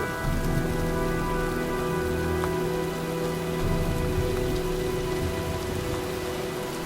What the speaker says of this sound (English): looks like a storm's coming